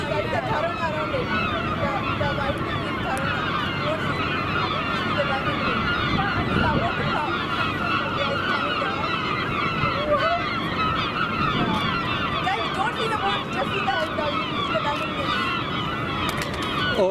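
During a total solar eclipse in Erie, Pennsylvania, a flock of birds honks and calls continuously in the distance while a crowd murmurs and talks throughout.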